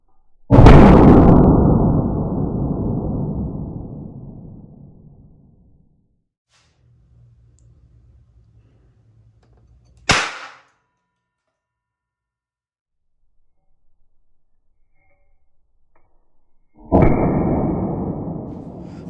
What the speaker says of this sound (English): when I try the blast, it's definitely louder when I use solder versus a harder metal